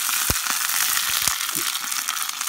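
Green beans crackle and sizzle in a hot cast iron pan over coals, a dense near frying hiss broken by a few sharp pops and clicks.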